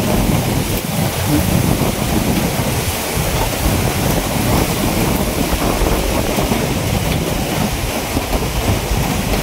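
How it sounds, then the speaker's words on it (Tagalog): Strong wind roaring and buffeting the microphone, a loud continuous rushing noise throughout. "Palakas na yung hangin, mga kabisnes."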